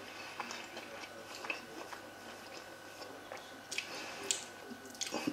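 Chewing on crunchy, spicy KFC hot wings with a crumb coating: close, quiet crunches and bites in an irregular rhythm, with no talking.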